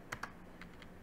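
Keys on a computer keyboard clack in a few quick, quiet taps in two short pairs, close by and with no one talking, while commands are entered during a modded Minecraft survival game.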